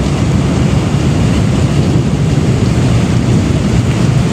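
Heavy rain pours in a dense, loud, unbroken roar with deep rumbling underneath, steady throughout and no voices.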